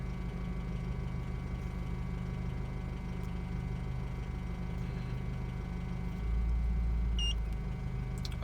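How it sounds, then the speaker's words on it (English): A Jeep Liberty CRD diesel engine idles steadily with a low, continuous rumble, the idle rising slightly toward the end; no talk. "I don't know if you heard the Jeep idle up, idle down"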